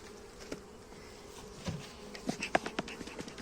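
Honeybees from a full three-frame colony buzz in a steady low drone close by, with a few brief louder passes and small knocks near the end.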